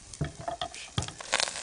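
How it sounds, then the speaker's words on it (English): Onions being sautéed in canola oil in a hot skillet make a bright sizzle, punctuated by several quick scraping stirs in irregular bursts, close and fairly loud, with no voices. "Now we're sautéing."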